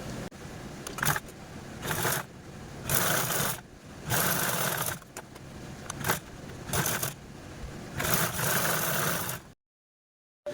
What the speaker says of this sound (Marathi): चला आता आपण या दोनही कडेने स्टिच करून घेऊया